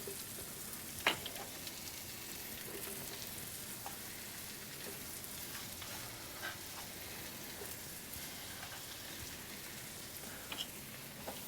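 Steady, soft sizzling of mushrooms frying in a pan with olive oil and melted fat, a quiet continuous crackle with a few sharper pops.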